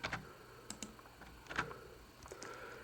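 Computer keyboard keystrokes and clicks while copying and pasting code into a new sketch, scattered taps and a couple of sharper presses over a steady background hiss.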